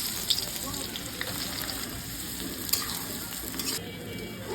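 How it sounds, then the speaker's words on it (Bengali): Sliced onions for birista sizzle steadily in hot oil, being fried for a mutton kacchi biryani; a close, continuous crackling hiss with occasional sharper pops and no talking. "এখন আমি বেরেস্তাটা ভেজে নেব"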